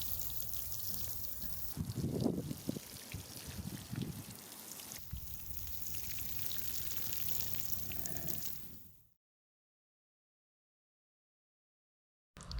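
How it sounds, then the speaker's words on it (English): Water soaks a bed of freshly planted kale in a garden, a steady trickling and splashing pour that runs for several seconds and then stops, leaving silence. "I'll go ahead and give the plants a good soaking"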